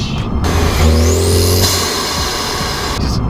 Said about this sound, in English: All turbocharged cars, it has that nice little blow off